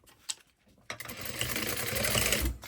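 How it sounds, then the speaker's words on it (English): A sewing machine stitching a quarter-inch seam on bag lining: a couple of faint clicks, then a steady fast whirring run of stitches, close and fairly quiet, with no voice. "we're going to sew these at a 1/4 inch seam allowance"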